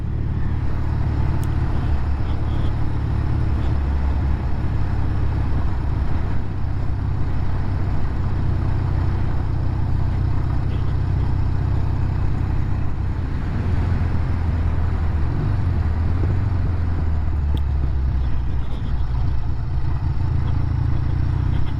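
The engine of a Triumph Trophy 500 T100c motorcycle runs steadily on the road at moderate speed, a continuous loud, low rumbling drone with mechanical clatter and wind noise, unbroken for the whole stretch.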